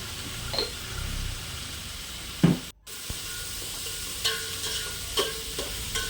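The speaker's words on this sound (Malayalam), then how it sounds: "സവോള പെട്ടെന്ന് മൂക്കാൻ വേണ്ടിയിട്ട് കുറച്ച് ഉപ്പിട്ട് കൊടുക്കണേ." Onions with a pinch of salt fry in a pan, giving a steady close sizzling hiss broken by a few soft stirring scrapes and clinks.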